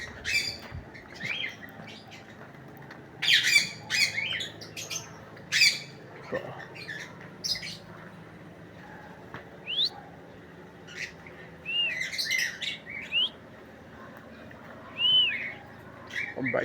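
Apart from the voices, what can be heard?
bird squawking and chirping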